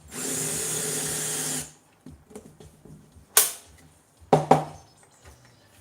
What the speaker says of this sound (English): So we have to have this countersunk.